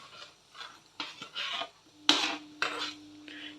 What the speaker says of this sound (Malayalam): അപ്പോൾ നമ്മുടെ ശർക്കര നന്നായിട്ട് പൊടിഞ്ഞിട്ട് നമുക്കൊന്ന് ഇളക്കി കൊടുക്കാം